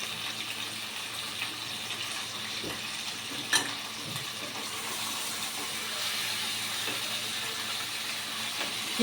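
Onions and chicken fry steadily in a pan for coconut milk rice and chicken curry, a continuous close sizzle with occasional stirring scrapes and no talking.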